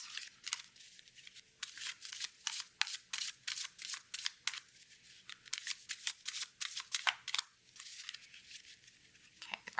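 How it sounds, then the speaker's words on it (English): Tarot cards being shuffled by hand in rapid crisp riffling and flicking bursts, close but quiet, with short pauses between runs and no clear speech. "So we're going to do a quick little shuffle here for our new moon vibes and intentions."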